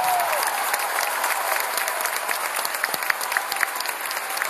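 Strong, continuous audience applause at a concert in Buenos Aires's Teatro Gran Rex, a thick wall of clapping from a large crowd with a few sharper claps standing out.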